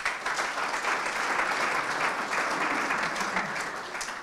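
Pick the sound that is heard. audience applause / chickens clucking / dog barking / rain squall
audience applause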